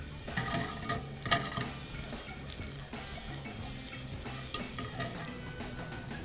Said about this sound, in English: We're gonna take our fennel, just saute it up real quick.